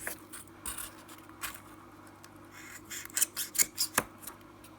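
Scissors cutting a small piece of craft material for a Christmas ball decoration, a few soft snips and rasping cuts close by, quickening into a cluster of sharper clips toward the end over a low steady hum.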